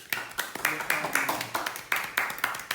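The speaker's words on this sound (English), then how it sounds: "We applaud you." A small audience claps in a quick, fairly even rhythm of sharp, close hand claps for a few seconds, honoring guests at an African Liberation Day gathering.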